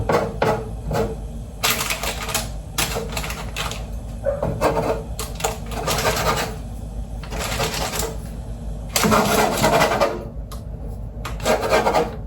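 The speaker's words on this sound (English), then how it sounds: "while they're still hot, you can kind of grate them." Hot cooked food grated by hand in a home kitchen, repeated rough rasping strokes in uneven bursts, close and fairly loud with brief gaps between passes.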